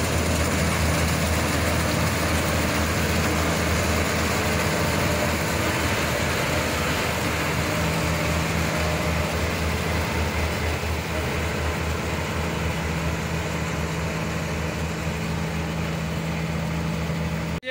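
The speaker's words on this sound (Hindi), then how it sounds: "कंबाइन इसको इसलिए बोलते हैं कि ये ट्रैक्टर भी है, थ्रेशर भी है।" A combine harvester cuts moong in a field at dusk, a loud, continuous heavy engine roar with threshing rumble that stays steady and near throughout.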